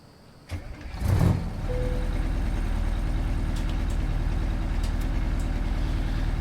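A Kenworth 521 truck engine in American Truck Simulator cranks briefly, catches with a loud rumble, then settles into a steady low idle that continues, with faint clicks overhead.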